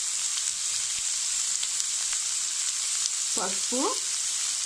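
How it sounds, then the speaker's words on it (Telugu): Sliced onions frying in a pan for a broccoli tomato curry make a continuous, even sizzle throughout, with a brief spoken word near the end. "ఉల్లిపాయ మగ్గే వరకు వేయించుకోవాలి"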